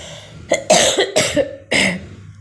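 Several sharp coughs burst out close by in quick succession, each a short rough hack separated by brief pauses.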